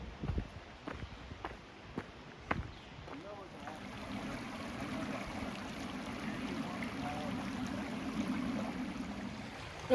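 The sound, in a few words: creek water flowing on Appalachian Trail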